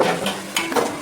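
Onions shallow frying in a little oil in a pan, a short burst of soft sizzling with a couple of brief stirring scrapes, close and fairly loud.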